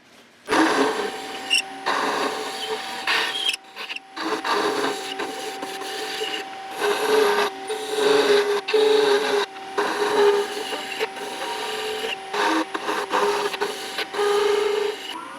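A lathe turns aluminum against a carbide cutting tool, giving a steady, close-up mechanical drone with a constant whine and ongoing scraping that dips briefly now and then over about fifteen seconds.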